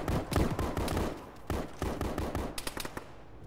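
Gunfire from the Arma military game with ShackTac players: rapid bursts of close, sharp shots crack out in uneven clusters, ending in a quick volley, no talk.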